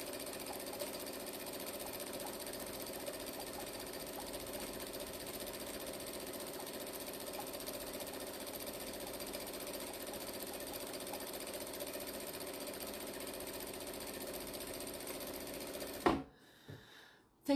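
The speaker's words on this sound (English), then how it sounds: "I'm just going to sew them in a big long line." Sewing machine running steadily, stitching jelly roll cotton fabric strips end to end for a strip tote bag; a continuous close mechanical whir lasts about sixteen seconds, then stops abruptly, leaving a few faint knocks.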